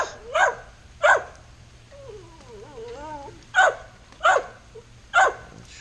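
A dog barks in sharp, loud single woofs, about five spaced out across the stretch, with a whining, yelping vocalization in the middle between them.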